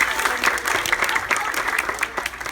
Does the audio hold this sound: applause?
yes